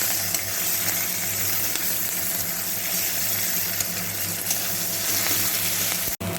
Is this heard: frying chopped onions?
yes